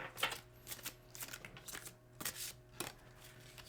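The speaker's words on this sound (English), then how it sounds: "Yep, you can just shuffle it like this." A deck of slippery tarot cards is shuffled by hand in a quiet room, giving a run of soft, riffling bursts and taps at an irregular pace, close by and fairly faint.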